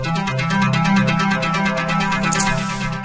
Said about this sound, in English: if you click the up arrow it becomes a constantly ascending arpeggiator